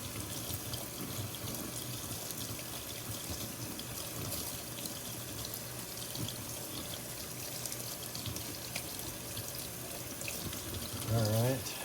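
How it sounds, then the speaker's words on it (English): Dyed knife scales are rinsed under a running tap, a steady, close splashing water flow that continues throughout, with a brief voice near the end. "Give them a good rinse."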